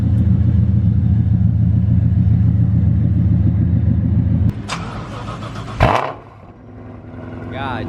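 A Terminator Cobra's engine idles with a low, heavy rumble, then cuts out before the starter cranks and the engine catches again with a rising growl.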